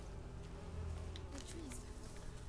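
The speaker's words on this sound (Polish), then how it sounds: "Słyszysz te muchy?" Flies buzz steadily and close by in the video game A Plague Tale: Innocence, a faint continuous insect drone with no talk over it.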